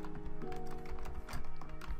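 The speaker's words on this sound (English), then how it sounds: "My keyboard's really loud." A loud computer keyboard clatters with rapid, uneven keystrokes, close and steady throughout, over a low game soundtrack humming in the background.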